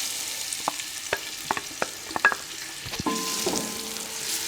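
Finely chopped onions fry in a cup of ghee in a copper pan for daal mash, with a steady sizzle broken by sharp clicks and scrapes of stirring, then a fuller hiss toward the end.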